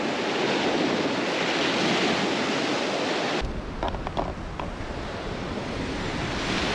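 Ocean waves break on a beach where surf fishing is underway, a loud, continuous rushing wash mixed with wind buffeting the microphone, easing slightly partway through.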